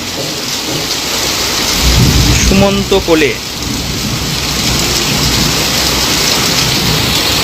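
Heavy monsoon downpour with a thunderstorm over Arambagh, a steady loud roar of rain with low rumbling thunder underneath; a voice speaks briefly in the middle.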